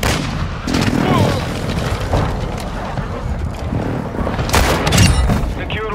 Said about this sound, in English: Hostile precision airstrike.